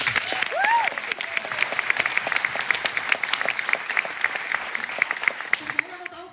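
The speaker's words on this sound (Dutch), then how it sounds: "Mag ik even een applaus voor de band?" Audience applause for the band at a live podcast recording during a podcast festival, steady crisp clapping throughout with a voice speaking over it.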